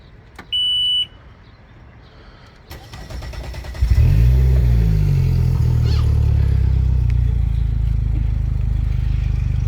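A Mercury 115 HP outboard boat engine with a voltage regulator-rectifier fault sounds a short electronic alarm beep, then starts and builds to a loud, close, steady roar held at high revs.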